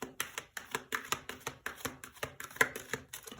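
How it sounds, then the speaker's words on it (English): Tarot cards shuffled by hand, a quick run of crisp riffling taps in an even rhythm, close and fairly quiet, with no voices. "let's keep shuffling and see"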